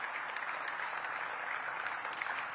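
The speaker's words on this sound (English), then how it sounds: "Let's give them another round of applause." Steady, dense clapping from a luncheon audience after a presentation, continuous and fairly close throughout the short stretch, with no voices over it.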